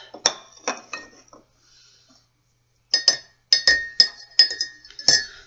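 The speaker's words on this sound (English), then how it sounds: "we're just going to put it through our tea strainer" Glass-and-metal clinks from tea being strained through a tea strainer, a few sharp taps early, a pause, then a run of close, bright clinks.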